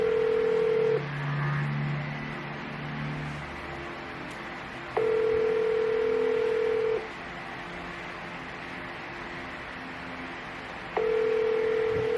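A phone placing an outgoing call gives a steady electronic tone in long even bursts separated by pauses of silence, repeating three times at moderate level with no talking.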